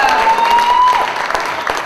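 Applause from a slam poetry audience after a poet's scores are announced, dense steady clapping with a faint tonal whistle or cheer rising through the first second, holding loud throughout.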